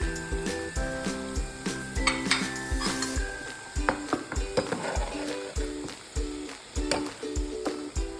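Onions frying in sunflower oil with a spoon of ghee, for chicken biryani: a loud, steady sizzle under repeated metallic clinks and scrapes as a spoon stirs and scoops them out of the pan, close by and without talking.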